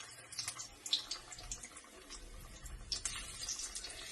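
Battered cauliflower fries in very hot oil with a quiet sizzle, broken by scattered sharp little spits and pops that stay faint throughout.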